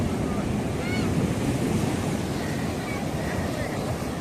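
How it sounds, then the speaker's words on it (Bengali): Rough sea at Tajpur beach, with a dense, steady roar of surf and wind buffeting the microphone throughout, and faint voices in the background. "আজকে সমুদ্র খুব উত্তাল রয়েছে।"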